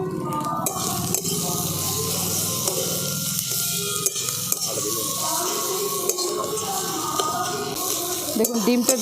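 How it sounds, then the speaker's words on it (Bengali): Scrambled egg frying with vegetables, salt and pepper in a pan for momo filling, with busy sizzling and scraping stirs close by under occasional talk. "এরপরে এটাকে আমি খুব ভালো করে সবজিগুলোর সঙ্গে মিশিয়ে ভাজা ভাজা করে নেব।"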